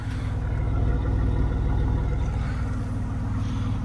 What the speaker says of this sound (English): Sounds pretty good too, actually, at idle with the cat delete.